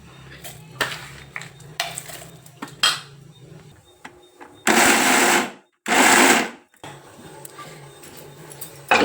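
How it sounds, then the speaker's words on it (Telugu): A mixer grinder whirs in two loud, short bursts while grinding dry fruits for laddus, separated by a brief pause, with softer kitchen clatter before and after. "మిక్సీ పట్టుకుందాం."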